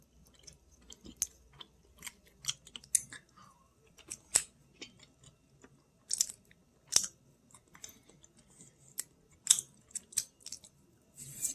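Someone eating fries at dinner, close crisp chewing and crunching bites in irregular bursts with quiet gaps between, intimate and fairly loud, no talking.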